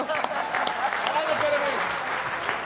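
Audience at a Hindi poetry recital bursts into brief, steady applause, a dense wash of clapping with crowd murmur mixed in.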